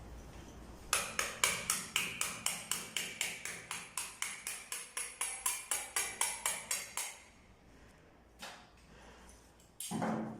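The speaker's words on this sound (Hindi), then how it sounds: "अब हम इस लंबाई वाले सरिये के साथ, हथौड़ी के साथ इसको लेंटर के अंदर डालेंगे।" A hammer drives a long iron rod into a concrete ceiling lintel while fitting a chandelier hook, giving a steady run of quick metallic taps about four per second, fairly faint, followed by a few scattered knocks with no talk.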